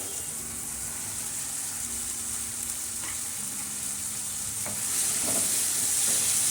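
Cowpea green beans go into a tomato tempering and fry with a steady hissing sizzle and occasional stirring knocks; the sizzle swells brighter toward the end.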